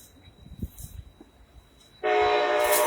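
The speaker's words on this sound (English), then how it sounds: "Everybody hear the train?" A train comes through loud and close after about two seconds of quiet background, its broad rumble and rail noise holding steady to the end, with a horn-like tone in it.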